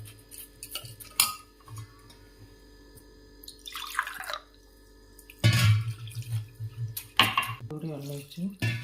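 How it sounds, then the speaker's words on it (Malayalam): A glass of water poured onto soaked rice and grated coconut in a kitchen bowl, heard as a few short splashing bursts between quieter clinks of utensils, close and moderately loud. "1 ഗ്ലാസ് വെള്ളം ഞാൻ ഒഴിച്ചു."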